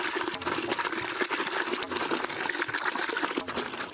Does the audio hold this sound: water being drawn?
yes